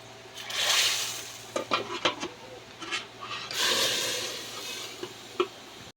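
Food tossed into hot oil in a wok (kadai) in a village kitchen sizzles in two bursts, with scraping and stirring strokes in between; it is fairly loud and close, with no talking.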